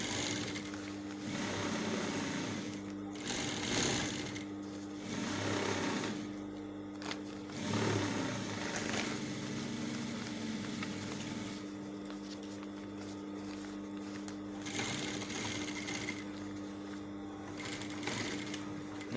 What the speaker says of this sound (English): Then I'll sew 1/4 inch allowance, same as I did for the other one, for the other side.